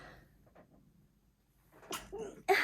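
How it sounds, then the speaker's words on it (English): After a quiet moment with a soft intake of breath, one sharp sneeze bursts out close to the microphone. "I have to sneeze."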